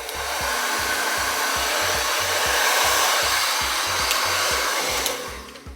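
A hair dryer blows steadily and loudly up close while blow-drying 4c hair, its roar wavering with a rapid pulsing flutter as the airflow moves, then cutting off near the end.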